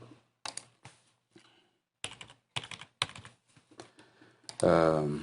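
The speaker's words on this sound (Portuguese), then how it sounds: "vou digitar aqui um código" Several short bursts of computer keyboard keystrokes entering a code into truck-weighing software, clustered in quick runs with pauses between, close and fairly crisp, ending in a louder burst of sound.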